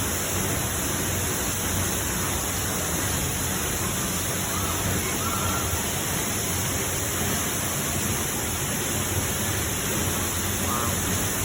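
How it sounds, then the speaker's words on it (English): Standing behind the falling curtain of the Misol-Ha waterfall in Mexico, a dense, unbroken roar of water fills everything, loud and constant for the whole stretch. "We are behind the waterfall."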